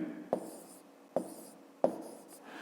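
Pen or chalk writing numbers by hand during a fifth-grade math lesson on multiplying 601 by 56: three sharp, separate strokes spaced about a second apart, close and clear over a quiet room.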